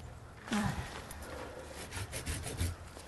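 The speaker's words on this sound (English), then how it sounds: "Can I use the handsaw to take this one out?" A handsaw cuts through a shrub branch in a few short, close rasping strokes, quiet and brief, with a faint squeak near the start and soft scraping afterward.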